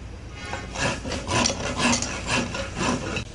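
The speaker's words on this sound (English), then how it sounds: "as you file, you should be able to control your file" Close, rhythmic back-and-forth rasping of a rat file shaping wood, about five firm strokes with short gaps between them, loud and without talk.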